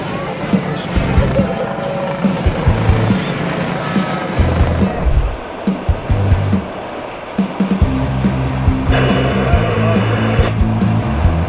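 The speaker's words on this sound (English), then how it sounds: "It's impressive enough to fly a helicopter forwards, but this pilot takes it to the next level with his reverse flying" A helicopter flies backwards with a steady rotor drone and rhythmic chop, loud and fairly close throughout, with mixed tonal sounds over it.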